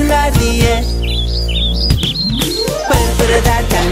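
Small cartoon birds chirp in quick high tweeting bursts within a children's counting song, sounding over a busy musical backing with percussion and sliding tones.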